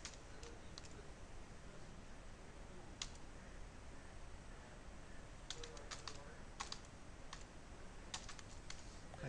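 Clicky computer keyboard typing an email address, close and quiet, with rapid irregular keystrokes in short bursts and no talking.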